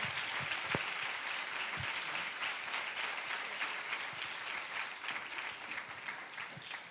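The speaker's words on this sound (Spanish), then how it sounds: "Albert Casals, un aplauso de nuevo." A conference hall audience at a soft-skills congress in Seville claps in sustained, dense applause for a speaker, a continuous wash of hand claps throughout.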